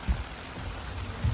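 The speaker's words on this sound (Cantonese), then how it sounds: "出面好大雨啊" Heavy rain falls outside at a campsite in Jasper and Banff, Canada, as a soft, steady wash of hiss with a couple of low thumps. It is faint and brief, and no voices are heard.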